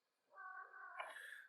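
A pet cat, ill and badly underweight, lets out a single clear, drawn-out meow that rises in pitch partway through, close and distinct against a quiet room.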